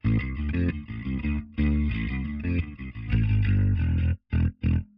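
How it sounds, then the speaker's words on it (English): Electric guitar through a Line 6 POD Express amp modeler with chorus engaged, a loud run of strummed chords and riffs that ends in a few short, choppy stabs with silent gaps between them. "I can engage some chorus."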